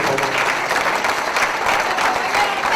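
A crowd at a public civic address claps steadily and densely, continuous applause with faint voices mixed in.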